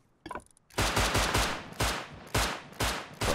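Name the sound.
gunshots in the video game Rust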